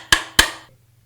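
A hammer knocks out the magazine latch pin of a Tippmann SMG-68 paintball gun with two sharp, close metallic taps that ring briefly before fading to quiet.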